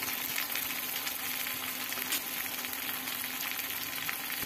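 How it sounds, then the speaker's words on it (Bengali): Poppy seed paste frying in a pan with coriander, cumin, dried chilli and ginger paste makes a steady, loud, close sizzle that runs unbroken throughout with faint stirring underneath, and no one speaks. "এই পর্যায়ে আমি দিয়ে দিলাম পোস্তর পেস্ট"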